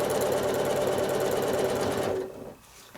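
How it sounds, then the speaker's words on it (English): Sewing machine stitching a rail fence quilt block, a steady, close, continuous whirring hum with fast rhythmic needle pulses that runs for about two seconds, then slows and stops, leaving near silence. "Stitch down, rotate, and stitch this direction."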